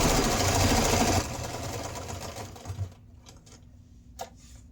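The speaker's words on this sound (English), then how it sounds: "I'm just going to that corner, put my needle down, turn, and keep sewing" A sewing machine runs a fast, loud stitching burst along a silverware holder seam, then stops, leaving a few faint clicks and mechanical taps nearby.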